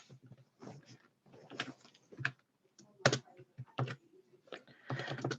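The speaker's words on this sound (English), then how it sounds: "I'll talk it through as I'm typing it." Someone types on a computer keyboard in irregular bursts of close, quiet key clicks separated by short pauses.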